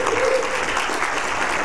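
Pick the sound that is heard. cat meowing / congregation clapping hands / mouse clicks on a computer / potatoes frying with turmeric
congregation clapping hands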